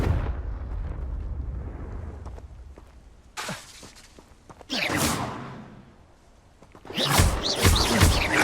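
Confringo fire spell blasts in Hogwarts Legacy on PS5: a sharp whooshing burst near 3.4 s, a louder roaring explosion around 4.8 s, then a sustained fiery rush from 7 s, over low ambient rumble.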